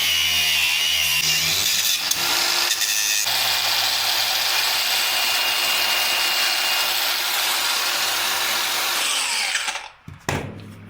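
An angle grinder stuck running wide open while working on a slammed 1971 Chevy C10. It gives a loud, steady, harsh whine for about nine and a half seconds, then cuts out abruptly, leaving a few faint clunks.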